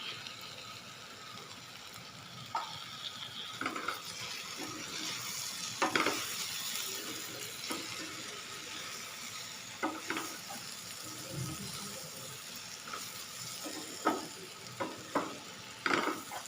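Fried capsicum being stirred into frying spices in a pan for a dry potato and capsicum curry, with a soft steady sizzle and repeated scraping spoon strokes against the pan.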